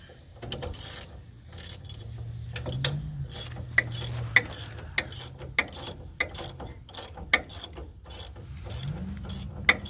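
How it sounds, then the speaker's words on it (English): A socket wrench ratchets while working on the front differential of a 2002 Toyota Tundra 4x4, giving repeated quick clicking bursts in an uneven rhythm, close and clear, with no talk. "And then I'm going to go to a socket wrench."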